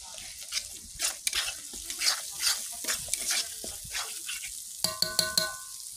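Masala with kasuri methi frying in oil in a pan while being stirred, with repeated loud scraping strokes over a crackling sizzle and a few metallic clinks near the end.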